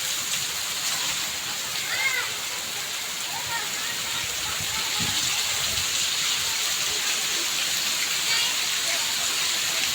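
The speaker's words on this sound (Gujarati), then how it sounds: "જોઈ લો મિત્રો ખૂબ વરસાદ પડી રહ્યો છે બનાસકાંઠામાં અત્યારે ભારે વરસાદ છે" Heavy rain falls steadily in Banaskantha, Gujarat, a dense hiss of drops on surfaces lasting throughout, with a few faint distant voices or calls beneath it.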